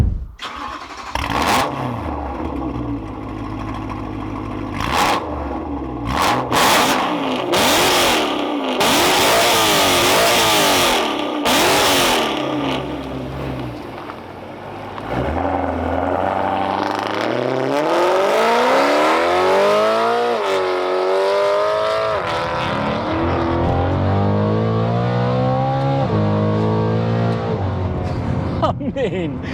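A BMW E92 M3 engine revs hard, a loud, close, continuous rasp that climbs and falls through repeated pulls over about half a minute, with rising sweeps toward the end.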